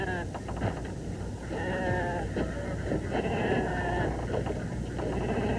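Sheep bleat several times against steady wind noise and a low rumble, with a person talking intermittently in between.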